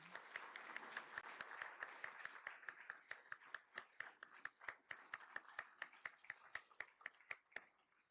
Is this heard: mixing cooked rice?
no